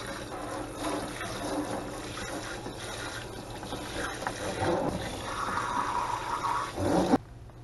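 Water from a hose runs steadily in a sink while a salmon's abdominal cavity is rinsed out, a continuous close splashing and trickling that briefly swells before cutting off abruptly.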